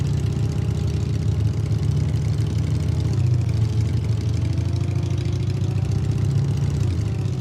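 A vehicle engine in a survival video game runs at a steady idle, a loud, continuous low droning hum with a slight pitch dip near the end, heard alone.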